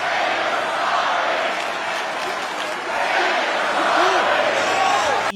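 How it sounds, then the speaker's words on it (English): Crowd noise at a wrestling arena during a promo, a steady loud roar of many voices and cheers sustained throughout, swelling slightly near the end. "Now listen to the crowd."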